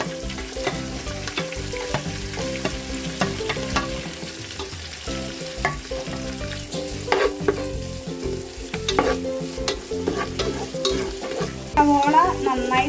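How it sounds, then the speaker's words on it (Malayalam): Onion, garlic and green chilli sauté loudly in a pan for a Mangalorean crab sukka, with a steady sizzle and repeated scraping stirs close by, growing busier toward the end, with no talk. "ഇതെല്ലാം കൂടെ നമുക്ക് ഒപ്പം ഒന്ന് വഴറ്റിയെടുക്കാം"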